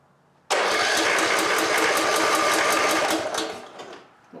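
A 2004 Cub Cadet tractor with a 19 hp Kohler engine that has a knock cranks and catches abruptly, then runs loudly with a rapid, regular pulsing beat for about three seconds before fading and sputtering down.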